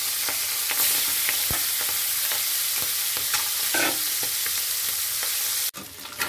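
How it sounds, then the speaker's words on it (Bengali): Small pieces of fish head frying in hot oil for a Bengali pui shak dish while a spatula breaks them up, a dense close sizzle with sharp crackles and scraping clicks, no voices. "মাছের মাথাগুলোকে খুন্তি দিয়ে ভেঙে আরও ছোট ছোট টুকরো করে লাল লাল করে ভেজে নিচ্ছি"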